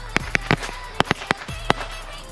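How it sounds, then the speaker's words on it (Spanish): Salvadoran firework rockets bursting outdoors in a quick, uneven run of about eight sharp cracks and pops, loud and close, with no talk. "Hoy, gente, le traemos un video de reventar cohetes."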